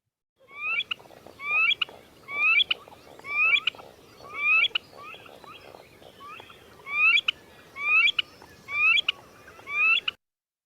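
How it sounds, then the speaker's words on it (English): An eared grebe giving its little poo-wee-chick call, repeated about ten times in a steady rhythm of rising whistled notes with brief gaps, close and clear over faint background hiss. "And the eared grebe does a little poo-wee-chick,"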